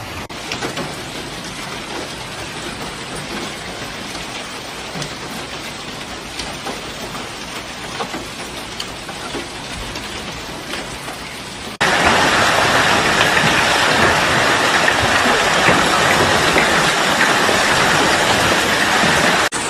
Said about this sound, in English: Southern Milan flooded by hail. A violent storm with strong wind gusts